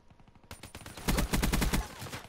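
Rapid gunfire in Call of Duty: Black Ops III, with a few lighter shots and then a dense burst of sharp, evenly spaced automatic fire, loud and close.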